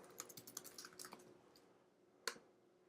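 Keys tapped on a computer keyboard while entering a title for a collection on an art-selling website, a quick run of soft clicks over about a second, then a pause and one sharper isolated keystroke, close and quiet with no talking.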